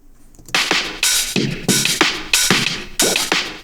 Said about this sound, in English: But instead I have this sort of drum loop here, which is essentially going tss, tss, tss, tss, tss, tss, tss.